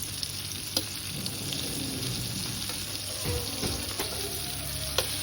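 Pomfret fish frying in a pan with green chillies; a steady, close sizzle and crackle continues throughout, with occasional light clicks from the pan.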